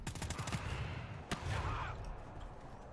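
Rapid bursts of automated turret gunfire from the GTFO video game, a fast volley of close, sharp shots in the first half-second, then one loud crack with a dense rattling roar trailing off behind it.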